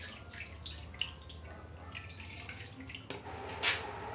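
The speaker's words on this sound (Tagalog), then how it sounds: "Lagyan natin ng tubig." Water poured into a pot for steaming pampano fish, soft trickling and dripping at close range, followed by a brief brighter splash near the end.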